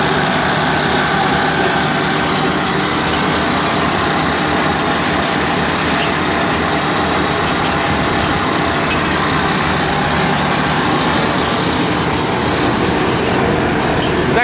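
A 2017 Claas Variant 485RC round baler running steadily with its floor lowered and knives engaged, a continuous even mechanical drone with tractor engine hum, loud and close throughout with no talk.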